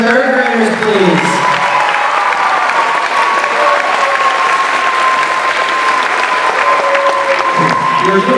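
An audience at an American School of Doha third grade concert applauds warmly, steady clapping with a few cheers that holds evenly for several seconds, with a sustained tone and murmuring voices mixed underneath.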